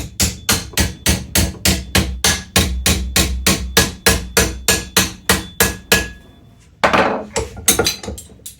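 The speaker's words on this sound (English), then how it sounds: "if I press it down the same amount each time and hammer it the same each time" Rapid, evenly spaced hammer blows strike metal hinge sections for an Austin 7 special, about three per second and loud, pausing briefly before a few more hits.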